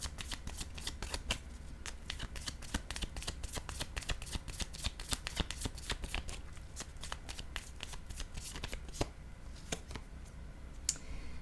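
Tarot cards being shuffled close by, with a fast, continuous run of crisp flicking and riffling clicks.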